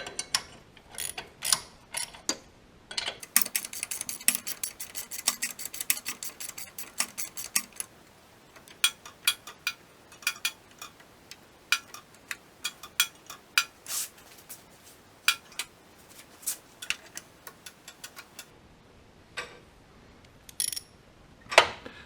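Small motor on a Cub Cadet forklift build turned over by hand, giving irregular mechanical clicks and ratcheting ticks in bursts, fairly close and alone, with quieter gaps between.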